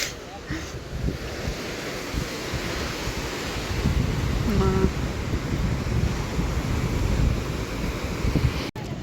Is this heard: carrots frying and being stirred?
no